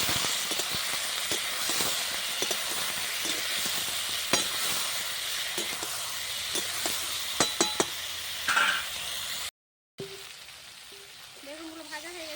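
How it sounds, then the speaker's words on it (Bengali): Eggplant pieces with salt and turmeric fry in oil over a clay stove, making a steady broad hiss with scattered stirring clicks and taps. A short silent break is followed by quieter sizzling and faint background sounds. "এবার ভেজে নেবো লাল করে।"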